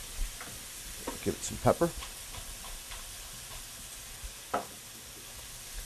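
Cooked button mushrooms sizzle and get stirred in a pan in a restaurant kitchen, with soft crackles and a few sharper clatters over steady hiss as a person speaks briefly.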